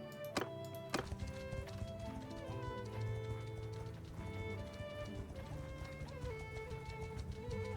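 Horse hooves clip-clop in the video game Mount & Blade II Bannerlord, a quick, rhythmic patter under dense in-game music and ambience, with a couple of sharp knocks near the start.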